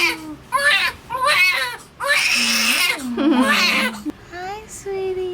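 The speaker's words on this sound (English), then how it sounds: "She was crying" A newborn girl delivered by emergency c-section for breech position cries loudly and close by during her hospital bath. Her wails come in several uneven bursts, and adult voices can be heard faintly alongside.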